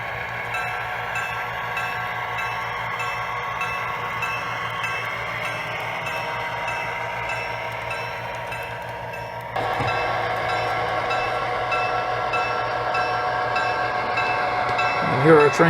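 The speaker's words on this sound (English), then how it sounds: "And here our train comes into the Plainfield Station." A model train on a model railroad layout runs into a station, a steady mechanical rumble and whir with a constant hum that grows slightly louder partway through as the train draws nearer.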